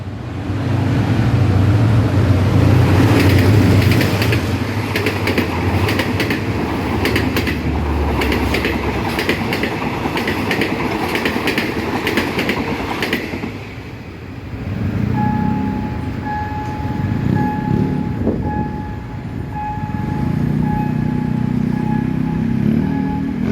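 A passenger train rolls through the railway curve at Don Mueang near the Kamphaeng Phet 6 Road level crossing, a loud steady rumble with rhythmic wheel clatter that fades as the train passes, followed by a crossing bell tone and traffic.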